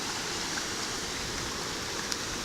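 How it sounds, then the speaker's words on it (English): Heavy rain pours down on Christmas morning, an even, dense hiss of falling water that holds steady throughout without any break. "Christmas morning, we just got 6/10 of an inch of rain."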